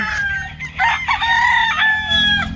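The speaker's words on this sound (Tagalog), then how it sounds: "Maraming manok." Several chickens squawk and crow up close, with overlapping shrill, drawn-out calls and clucks filling the whole moment.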